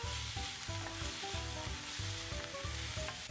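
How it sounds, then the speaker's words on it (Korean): Onion, carrot and tomato stir-frying in one pan for a cheese bolognese pasta, a dense continuous sizzle with rhythmic scraping stir strokes, close-up, no voices. "3분 정도 뒤에 토마토를 넣고 볶다가"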